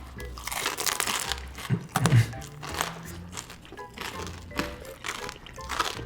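Crunchy food crackles and crunches while being bitten and chewed, with irregular bursts of crinkling and a few louder thunks, close and fairly loud.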